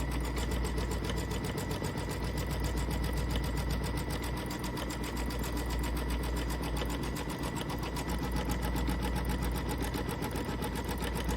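A sewing machine runs continuously through a quilting sew-along project, a steady fast mechanical whir with a rapid stitching pulse, close and even with no talk.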